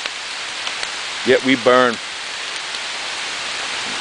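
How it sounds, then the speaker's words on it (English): Heavy pouring rain makes a dense, continuous hiss throughout, with a voice speaking briefly partway through. "pouring rain, man. Big time."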